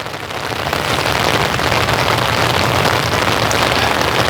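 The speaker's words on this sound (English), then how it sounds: "Trying to keep the umbrella above my head because it is rainy out here," Steady summer evening rain pattering down around an umbrella outdoors, a dense, even hiss of drops that stays close and loud throughout with no voices.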